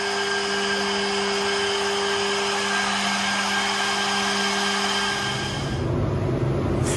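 An Altendorf F-Series next F 5 edgebanding machine runs with a steady mechanical hum and whine, the tone shifting into a rougher, broader whoosh toward the end, with no voices.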